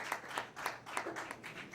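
Applause from a small lounge audience, a quick scattered patter of hand claps with uneven bursts, fairly close and moderately loud, no voices over it.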